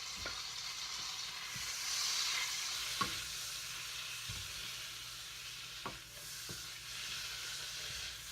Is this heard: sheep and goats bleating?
no